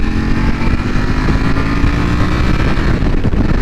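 A 2020 Ducati Panigale V4 R being ridden, its engine a loud, steady drone with a low rumble and layered harmonic tones, mixed with wind noise across the microphone and no voices.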